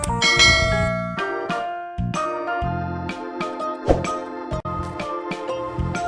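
Bright bell-like chimes ring out in a short sequence of ding-dong tones, loud and clear with no talking, like a notification bell jingle used at the start of a Filipino cooking show for macaroni salad.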